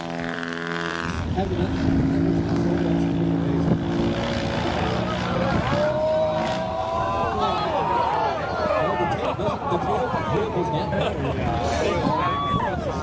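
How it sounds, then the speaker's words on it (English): An Alaskan bush plane's propeller engine drones loudly and steadily, close by, with a shifting, warbling tone as it moves through a short takeoff or landing. "This is an Alaskan bush plane, known for being able to take off and land in a really short distance"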